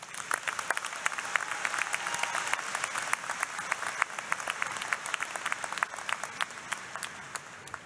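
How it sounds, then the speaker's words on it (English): Graduates of a 2023 engineering and applied sciences commencement receive a long round of applause from the crowd, crisp hand claps packed into a continuous, lively roar with occasional sharper nearby claps standing out. "join me in a round of applause for the graduates of the School of Engineering and Applied Sciences"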